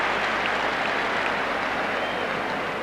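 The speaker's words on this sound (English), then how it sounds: "the crowd give him a rousing round of applause" A football stadium crowd at a 1986 World Cup qualifier between Ireland and the Soviet Union applauds a substituted player, a steady, dense wash of clapping and crowd roar that holds at an even level throughout.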